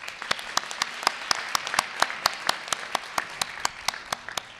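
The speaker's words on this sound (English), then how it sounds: "Give her a round of applause." Scattered applause at a sheriff's office promotion awards ceremony, a fairly small crowd producing crisp, individually audible claps in a steady, brisk patter throughout.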